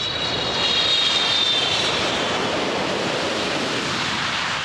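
A new Boeing 777 airliner lands in Germany at the end of its first long-haul delivery flight from Everett, its engines producing a loud, sustained roaring rush with a faint high whine that fades slightly.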